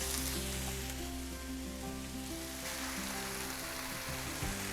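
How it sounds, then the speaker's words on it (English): Meat and zucchini sizzle loudly and steadily in a hot pan while canned whole tomatoes are added, a dense continuous frying hiss with stirring close by. "we're gonna add the zucchini, give that a little stir, and then we're gonna add our can of tomatoes"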